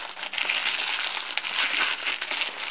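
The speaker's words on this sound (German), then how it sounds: "wenn ich das jetzt mal aus der Folie bekommen würde" Plastic film crinkling and crackling up close as a Trekstor SurfTab W1 duo tablet with keyboard is unwrapped, a continuous dense rustle that swells and fades with no speech.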